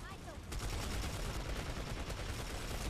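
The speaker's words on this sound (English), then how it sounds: "I have an overshield, and I'm shooting you, and I'm hitting every bullet" Dense, continuous gunfire from Planetside 2 on the Esamir map in a stormy battle with tanks nearby, sounding as a loud, unbroken wash of rapid automatic shots with no clear gaps.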